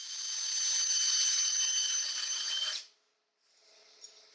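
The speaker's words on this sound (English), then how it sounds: "I use the hammer feature of the drill with a low clutch value to slowly cut the threads" A hammer drill on its hammer setting with a low clutch slowly cuts threads, a steady harsh grinding that runs for under three seconds, stops abruptly, then resumes more faintly at a short distance with no talk.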